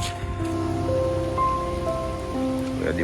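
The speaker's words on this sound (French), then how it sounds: "Regardez-moi ça avec la pluie" Steady rain patters on surfaces close by on a muddy hiking trail on Réunion, a continuous hiss with faint tonal hum in the background.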